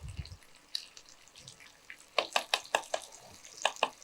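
A spoon stirs ginger, garlic, onion and spices in a pan for mutton pepper fry, giving quiet scraping clicks and soft sizzling, with a quick run of sharper taps near the end.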